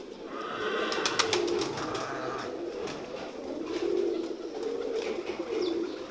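Kamal pigeon pairs at a loft coo continuously in low, rolling phrases that swell and fade throughout. Soft chirps and clicks from other birds sit faintly above, with no talk.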